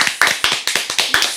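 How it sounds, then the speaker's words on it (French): Several people clapping for a guest's entrance on a French talk show studio set, sharp irregular claps close by, loud and uneven, with no voices over them. "On va Ouais, applaudir la pour l'arrivée des Tijari"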